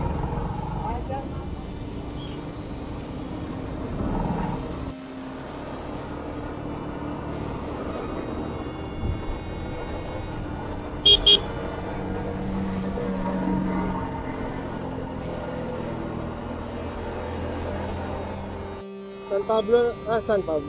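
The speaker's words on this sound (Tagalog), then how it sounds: "Grabe talaga lagi yung traffic dito pag sa Los Baños ka." Riding a TVS XL moped through heavy road traffic in Los Baños brings a steady engine drone and traffic rumble, with short bursts of car horns cutting in near the middle and again toward the end, while someone talks over it.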